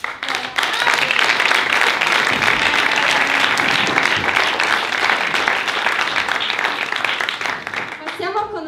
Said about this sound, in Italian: un applauso a tutti i ragazzi di Sciacca